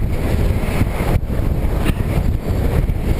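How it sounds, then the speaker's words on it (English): Fierce wind of about 60 miles an hour blasts over a mountain crest, a loud, steady roar buffeting the microphone with gusty low rumbling. "the wind is just fierce"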